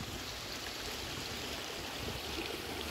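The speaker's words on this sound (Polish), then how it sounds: "Od drogi spływa woda do tego." A small mountain stream swollen by rain, with water running off the road into it, flows in a steady, soft, continuous rush. It sounds fairly quiet and even throughout, with no voices.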